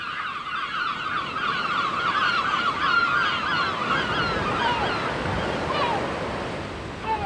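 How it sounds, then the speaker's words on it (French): Great black-backed gull attacking a lesser black-backed gull by the sea, harsh gull calls rising over a steady roar of surf and wind. "vous avez un goéland marin qui vient d'attaquer un goéland brun"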